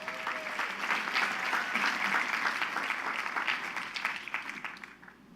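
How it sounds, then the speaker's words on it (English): A college commencement audience applauds the conductors and the wind ensemble, a broad sustained wash of clapping from a large crowd that holds steady and then thins toward the end, heard somewhat distant. "please give them a round of applause"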